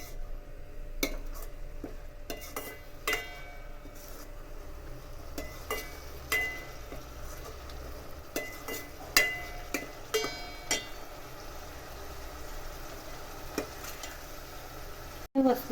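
Garlic and onion paste roasting slowly in oil, with frequent spoon scrapes and stirring clatter against the pan over a soft continuous sizzle, close and moderately loud, with no talking.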